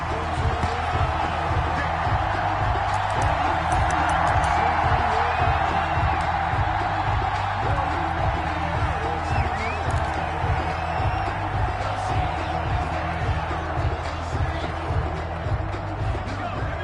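Stadium crowd before a San Francisco 49ers versus Cincinnati Bengals football game, a steady roar of massed voices and cheering that holds at an even level throughout, with a pulsing low rhythmic beat underneath.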